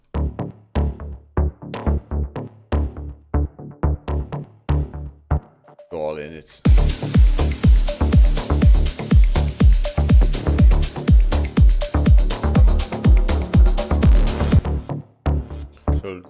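Layered electronic bass track with a deep sub layer, playing a steady, punchy pulsing rhythm loud and close for about eight seconds, framed by someone talking before and after.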